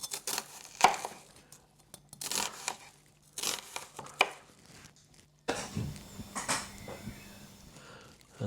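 Knife chopping an onion very finely on a board for a homemade dehydrated peanut chicken curry: a series of crisp, close cuts in bursts with short pauses, no talking.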